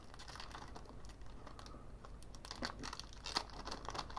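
Crinkly plastic foil of a Japanese Pokémon booster pack being cut open with scissors, giving a run of soft rustling and crackling handling noises, close and quiet, with a few sharper snips toward the end.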